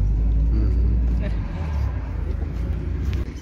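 A Russian minibus sits stuck in a traffic jam, its engine idling in a deep, steady rumble from inside the cabin with surrounding road noise and occasional voices.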